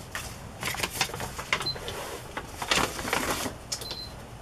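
A sewing machine stitches a card into a handmade journal, giving a quick, close mechanical clatter in short irregular bursts with small clicks between them.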